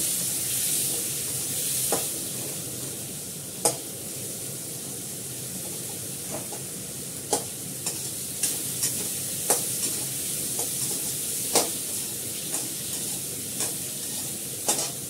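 Spices sauté in a pan with a constant soft hiss and sizzle, punctuated by sharp taps and scrapes of a stirring spatula at irregular intervals, fairly quiet and without talk.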